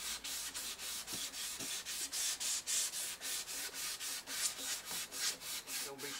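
Steady back-and-forth sanding strokes with 1500-grit sandpaper on a glossy guitar neck, a rhythmic scratchy rasp repeating about three times a second, close and moderately loud.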